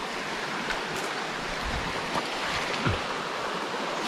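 A forest stream in Bình Phước, Vietnam, being crossed on foot while searching for bee nests gives a steady, close wash of running water with a few brief splashes, and no voices.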